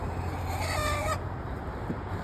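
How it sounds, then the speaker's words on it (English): A rooster lets out a single short call close by near its coop, followed by a quieter, steady background hum. "That's Chief Dingus, our rooster"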